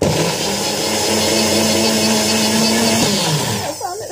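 Smoothie being mixed in a blender cup, a loud steady whirring drone that runs continuously before cutting out near the end, followed by a brief high voice.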